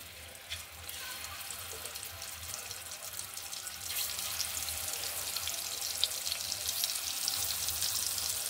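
Food sizzling in hot oil in a pan, a steady, fairly loud hiss throughout with a brief crackle near the start, no voices.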